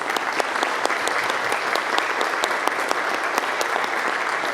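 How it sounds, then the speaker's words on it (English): A crowd applauds steadily, with dense, even clapping that holds at a constant level throughout. "please give our sponsors a round of applause"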